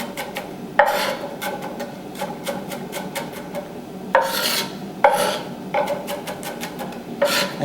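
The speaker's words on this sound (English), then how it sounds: "So we're going to chop these up." Shallots being chopped finely with a knife, rapid irregular scraping and thudding strokes against a board, close and moderately quiet, with bursts of brisk cutting and no voices.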